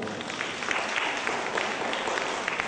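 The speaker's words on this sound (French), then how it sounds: "j'aimerais qu'on acclame encore" A crowd at an NGO Christmas tree celebration claps steadily for the charity Lanaya Universelle, the applause dense and even throughout, with no talking.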